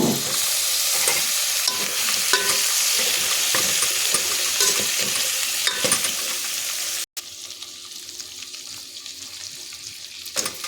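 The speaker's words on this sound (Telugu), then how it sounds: "ఇప్పుడు మునక్కాయ ముక్కలు వేస్తాను" Drumstick (moringa) pieces sizzle in hot oil in a pan, a steady loud frying hiss with scattered stirring clatter, briefly cut off near the end before resuming.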